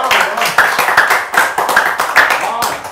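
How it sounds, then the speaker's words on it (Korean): An audience at a lecture claps steadily to welcome a speaker, a dense, close patter of hands with a few louder individual claps over a murmur of voices. "여러분 박수로 환영해 주세요"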